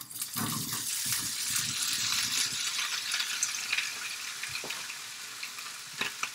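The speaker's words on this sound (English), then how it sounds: "I'm going to be careful about adding the potatoes in there, because it does have water, and it's going to cause a little bit of splattering" Wet potatoes go into a hot breakfast-taco pan, setting off a steady, dense sizzle and splatter that fades slightly, with no talking.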